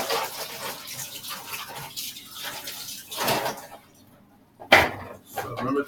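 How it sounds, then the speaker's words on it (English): Water runs from a kitchen tap as hands are washed during pork shoulder prep, a steady broadband rush that breaks off briefly and then returns with a sharp splash. "I have to wash my hands."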